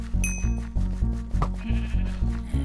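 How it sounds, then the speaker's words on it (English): Repeated sheep bleats from Minecraft's Wynncraft server, a rhythmic series of about eight short, loud, close baas at regular intervals with a faint ringing tone in the background. "Oh, it's the pink sheep of greatness."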